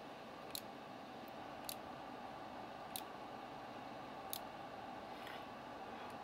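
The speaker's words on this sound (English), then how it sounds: "you'll actually hear the relays clicking" Faint, sharp clicks from the relays of a uSDX amateur radio transceiver sound one at a time at irregular intervals, about five in all, over a quiet hum.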